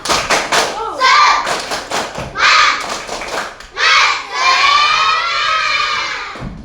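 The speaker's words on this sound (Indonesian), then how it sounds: "Supaya kalian semangat, kita tepuk semangat dulu deh." A classroom of fourth-grade children claps in quick rhythmic bursts while chanting loudly together, ending in a long shout of voices.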